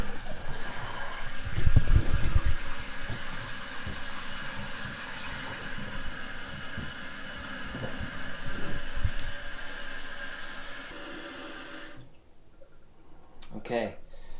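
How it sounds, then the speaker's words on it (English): Water rushes steadily into a toilet tank with a hissing flow and occasional knocks, loud at first, then cutting off near the end as clicks follow. "So now let's turn on the water."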